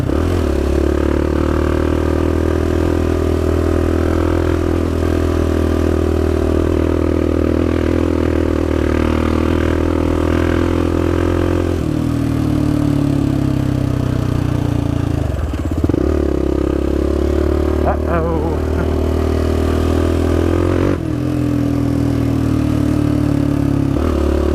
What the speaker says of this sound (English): Is that what a clutch does when it's going?